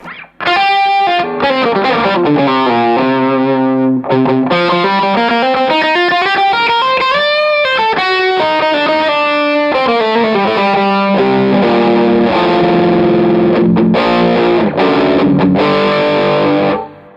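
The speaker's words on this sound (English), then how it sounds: "So you get a more mid-forward lead sound, this distortion sound, which is great." A heavily overdriven electric guitar plays a continuous lead line with bends and sustained notes through two stacked overdrive pedals, a JAM Pedals Double Dreamer, thick, saturated and mid-forward, loud and up front.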